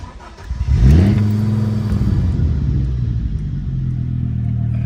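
An Audi Ur Quattro engine cranks and catches with a quick rev, then drops into a steady, loud idle that drones on to the end.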